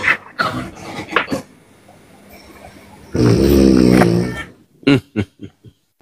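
A person snoring in one long, loud, rasping inhale that swells and fades, set among softer clicks and knocks, with no talking in the room.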